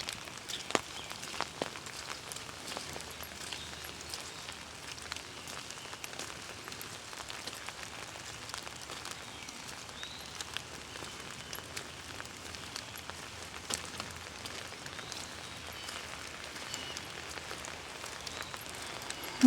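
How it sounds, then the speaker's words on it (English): Steady rain patters on surfaces nearby, with scattered sharper drops and the occasional faint footstep in the background. "I love the sound of the rain."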